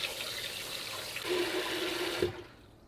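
Fish that has already been scaled and cleaned is rinsed under running tap water while Jamaican-style steamed fish is prepared. There is a steady close splash that ends abruptly in quiet, and no one speaks.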